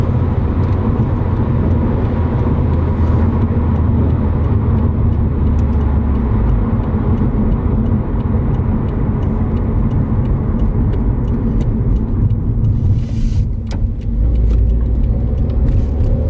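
Modified exhaust on a 2018 Subaru WRX droning loud and steady under acceleration, with dense low rumble throughout and a brief shift-like dip near the end; no talking.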